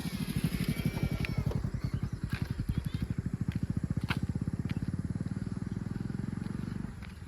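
A motorcycle engine idles and revs close by with a fast, steady pulsing thump that fades slightly toward the end, loud and continuous.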